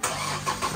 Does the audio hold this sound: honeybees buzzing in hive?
no